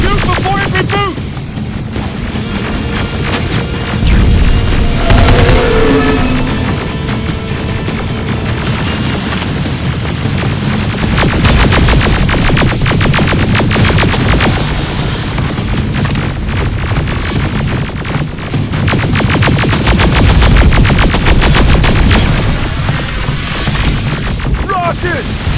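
Heavy gunfire and explosions rage nonstop in the Terminator: Resistance video game, loud booms and rapid shots layered over a droning hum, with brief shouted voices in the chaos.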